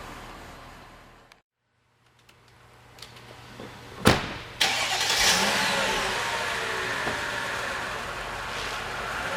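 A Mercedes-Benz S500 W221 sedan falls quiet, then a door thuds, the engine starts and the car pulls away with a smooth, subdued hum, heard from inside the cabin.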